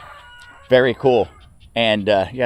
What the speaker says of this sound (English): the rooster will not stop.